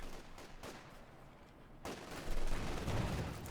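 Gunfire aimed at penal troopers during a Company of Heroes 2 battle, a dense wash of rattling shots and combat noise that swells louder toward the end.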